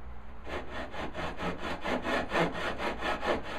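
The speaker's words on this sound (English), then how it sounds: "Keep the knife or the saw nice and straight" A hand saw cuts through walnut wood in steady back-and-forth strokes, about a dozen even rasping passes, close and clear with no talking.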